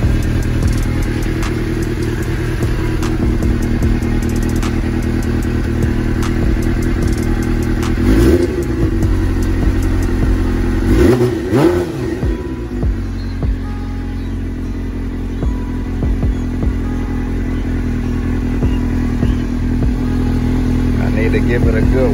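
A motorcycle engine that had sat in a garage for a year idles and revs up close, a steady loud rumble with a couple of brief throttle swells, while people talk over it.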